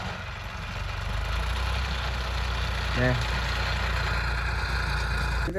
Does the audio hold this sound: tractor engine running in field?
yes